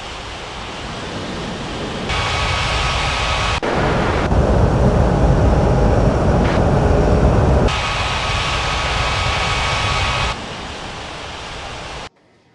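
Airliner engine roar at Bali airport, a steady broadband rush that swells louder in the middle and then eases, continuous and fairly close, with no talk over it.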